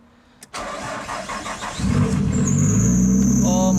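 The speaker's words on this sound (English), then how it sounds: "Alright, see if this car fucking starts." A Nissan R33 Skyline with a newly fitted Walbro 255 fuel pump cranks briefly and catches, then settles into a loud, steady idle with a high-pitched belt squeal riding on top, recorded close up.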